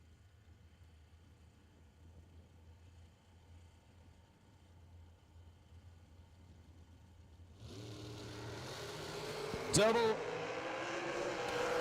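Dragster and Harley-Davidson motorcycle launching side by side on a drag strip during bracket racing, quiet idle then engines suddenly roaring up loud and rising, under an announcer's commentary.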